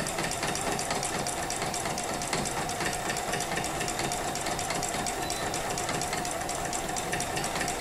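A sewing machine runs steadily while travel stitching along a seam line for free motion quilting with an embroidery foot, a continuous dense mechanical whir that stays loud and even with no voices.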